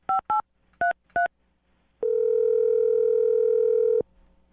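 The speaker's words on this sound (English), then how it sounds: "I'm going to dial his phone number right now and get him on the phone." Four short telephone keypad beeps dial a number in quick succession, then a single long, loud, steady ringing tone sounds for about two seconds before cutting off.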